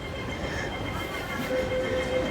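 A C train passes at Siu Hong Station in Hong Kong with a loud, steady rail rumble, and a thin squealing tone rises over it in the last second.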